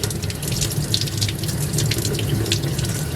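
Thin stream of tap water running over a calf brain being rinsed, a steady close splashing flow with small irregular spatters, no voices.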